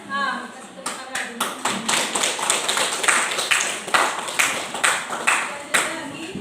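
Hands clapping in a classroom, a group applauding in quick rhythmic bursts that start abruptly and continue steadily, with voices talking over it.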